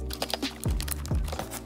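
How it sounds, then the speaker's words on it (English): Keys clack on a Razer Huntsman Mini keyboard during a sound test, a few quick, close taps and two heavier thocks over about two seconds, with no talk. "New keyboard, Razer Hartman Mini, and ready for the sound test."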